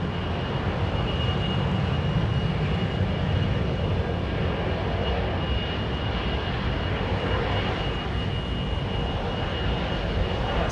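A jet airliner at London Heathrow Airport powering up for takeoff, a loud, steady, broadband engine roar that holds unbroken throughout, with no voices.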